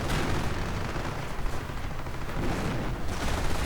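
Dense, steady battle din of gunfire in a WWII strategy video game, with a panzer force and Rangers under fire; continuous overlapping shots and blasts at a constant loud level, no voices.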